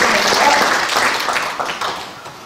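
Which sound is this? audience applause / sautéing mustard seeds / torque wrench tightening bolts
audience applause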